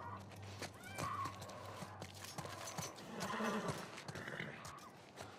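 Horse in the video game The Last of Us Part I, whinnying and snorting with hoof clops against faint ambient game sound, fairly quiet and without voices.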